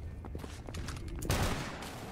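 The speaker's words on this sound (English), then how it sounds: "Why are you still shooting?" Gunfire in the video game S.T.A.L.K.E.R. GAMMA: scattered distant pops followed by a sudden louder volley of shots that lingers as a noisy rumble.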